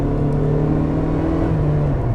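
A Honda Civic coupe's four-cylinder engine hums and builds under acceleration, a steady moderate whir heard from inside the cabin, with no talk.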